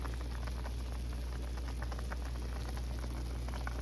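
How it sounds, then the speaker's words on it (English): Meat coming to a boil in a pot of broth for cornbread dressing gives a steady, close, low bubbling hiss that runs on evenly throughout, with no voices. "we got our meat coming to a boil."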